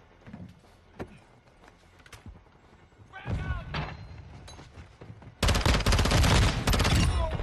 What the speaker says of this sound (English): I was bursting my MP7